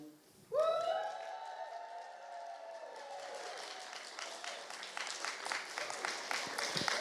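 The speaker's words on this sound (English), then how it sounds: "if you can show me how loud you can cheer" School students at a school for the deaf cheer and shout together on a countdown, a loud burst of massed voices that settles into sustained crowd noise with scattered clapping building toward the end.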